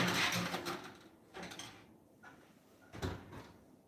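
An oven door is opened and cookie trays slide into a home oven, with a few soft clunks and scrapes spread over several seconds, fairly quiet and close.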